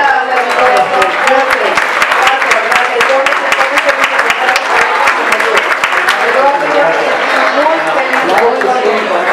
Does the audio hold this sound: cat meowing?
no